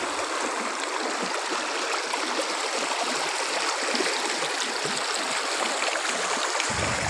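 River water rushes and churns steadily, a dense, loud, continuous flow heard up close with no voices over it.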